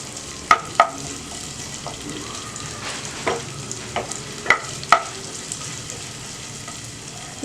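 Ginger and garlic fry in hot oil in a pan, a continuous close sizzle broken by several sharp clicks and scrapes of stirring spread across the stretch, with no voices.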